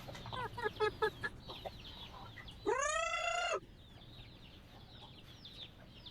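Native farm chickens cluck in a series of short, close, separate calls, then give one longer crow-like call. Quieter clucking continues over a steady background hum.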